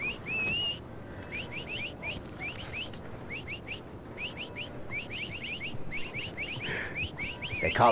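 Repeated shrill whistled phrases from a cartoon gang's deadly signature whistle, short bursts in quick clusters repeating throughout, fairly clear over a busy low background rumble.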